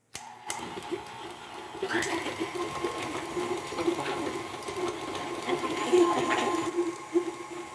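Electric hand beaters whir steadily as they cream butter and brown sugar for chocolate oatmeal cookies, a continuous close motor hum with clattering against the bowl.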